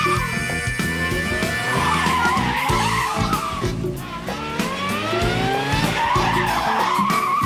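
A Nissan Micra's tyres squeal loudly in a reverse-flick skid, with the engine revving and the screech rising and falling continuously for several seconds.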